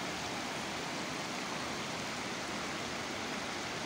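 Floodwater from Manchar Lake flowing over the Dadu road during the 2022 Sehwan flood, heard as a steady, even rushing wash that runs throughout without voices and stays fairly faint.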